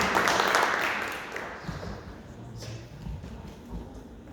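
Loud applause rises from a prayer group, clapping densely at first and then thinning into scattered claps and shuffling, with no talk over it.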